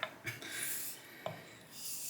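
Straight razor strokes on a Shapton Pro 1.5k whetstone, a Focus Frameback blade honed by hand: a few soft, close rasping scrapes with brief sharper contacts, quiet and alone.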